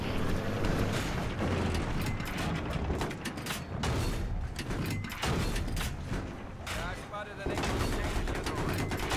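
Gunfire in the Battlefield 3 video game, dense bursts of rapid shots and automatic fire throughout, mixed with a player's excited talking.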